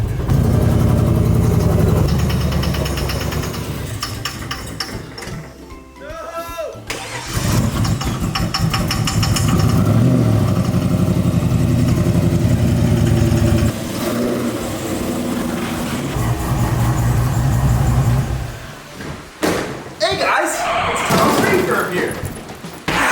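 A 2002 Chevy Silverado 1500 HD V8 running rough with a full misfire, a loud close engine chugging unevenly, with a brief cranking break in the middle and talk over it.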